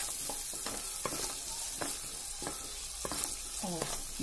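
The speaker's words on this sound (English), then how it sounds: "as the garlic is frying" Garlic sizzles in butter in a pan, with occasional scraping and stirring knocks of a utensil throughout; no one speaks.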